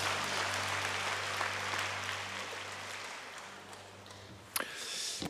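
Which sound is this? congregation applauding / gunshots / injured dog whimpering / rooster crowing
congregation applauding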